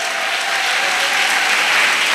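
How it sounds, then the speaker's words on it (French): A church congregation applauding, dense and loud continuous clapping from many people that holds steady throughout. "Clap up to Jesus"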